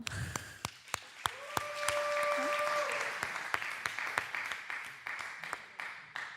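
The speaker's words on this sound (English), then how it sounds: "And so, yeah, we can clap." A handful of participants in an online Torah study group clap at uneven intervals, sharp separate claps over a call connection, with a steady tone and brief voices in the background.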